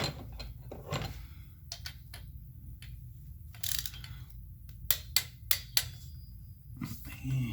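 A ratchet clicks in short bursts while a spark plug is torqued down on a 2016 Mini Cooper S F55/F56, quiet and close, with a cluster of sharper clicks near the end and brief pauses between.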